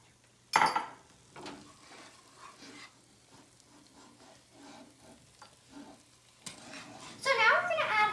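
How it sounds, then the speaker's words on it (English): Shredded Irish cheddar being stirred into grits in a pot, with a sharp clink of a utensil against the pot followed by soft scraping and mixing, then louder clatter near the end. "I'm going to mix this in and put the cover on and leave it to the side."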